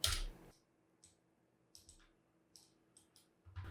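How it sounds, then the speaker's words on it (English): Quiet computer mouse clicks and keyboard taps at a desk, a few sparse, close clicks in small clusters over a faint background hum. "I'm going to right click and type carry object."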